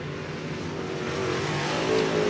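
Race cars roar around an oval track during a feature race, a steady, loud engine drone that swells slightly as cars pass, with no talking.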